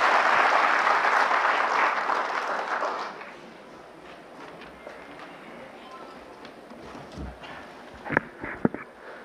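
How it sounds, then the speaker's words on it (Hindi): Loud, sustained applause from an audience at a CEO's welcome address, steady for about three seconds before fading out, followed by quiet room noise with a few faint knocks and rustles. "एक बार ज़ोरदार तालियों से उनका स्वागत करें"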